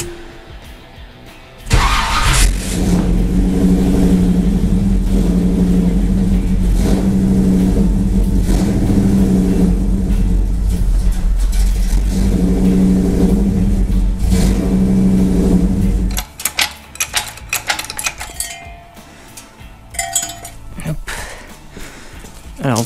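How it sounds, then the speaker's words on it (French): A small two-stroke Nova moped engine screams at high revs close by, over-revving from a rich fuel mixture after carburettor work, holding a strained pitch with slight wavers before cutting off into quieter rattling. "le moteur doit être plein d'essence et du coup, ça fait qu'il monte vachement dans les tours"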